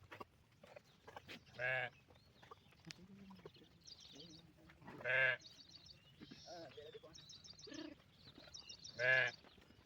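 Sheep bleat loudly three times at spaced intervals on a farm where they are being given medicine, with quieter animal calls and low voices in between.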